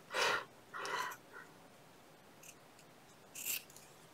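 Scissors cut through fabric in a few short, crisp snips spaced apart, close and fairly quiet in a still room.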